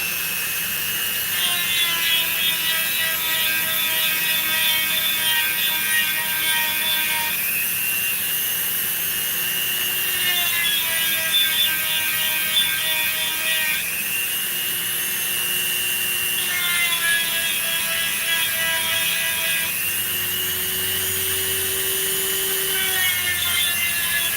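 Grinding or sanding tool cleaning out the center hole of a half-ounce pure silver coin ring, a steady loud whine in repeated passes of several seconds each, with shifting pitch between strokes and no talking.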